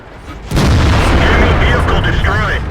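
In World of Tanks, a T-30 tank's 155mm gun fires with one loud, close boom that hits suddenly and rolls on as a heavy, sustained rumble.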